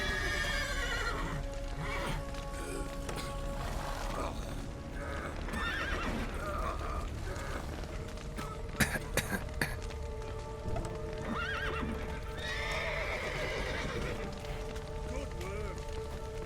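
Horses neigh and whinny repeatedly amid clip-clopping hooves in The Witcher 3: Wild Hunt, trapped under a collapsed roof, with shouting voices and crackling game ambience throughout.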